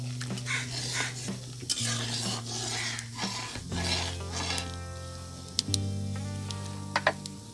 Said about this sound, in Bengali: আমি এগুলো এখন এই ডালের ভিতরে দিয়ে দেব। দিয়ে আমি এটা হালকা করে নাড়া দিয়ে দেব।